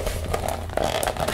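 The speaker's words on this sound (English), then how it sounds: "So this one has a zipper." A zipper on a pink plastic bag is worked open at close range, producing a quick run of scratchy, crackling ticks and rasps over a little more than a second.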